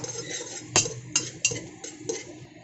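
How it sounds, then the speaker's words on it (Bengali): A few sharp metal clinks of a spoon against a pressure cooker while cashews, raisins, a bay leaf and two chilies fry inside, spaced apart over a low, steady background. "এটাকে একটু প্রেসার কুকারে ভেজে নেব"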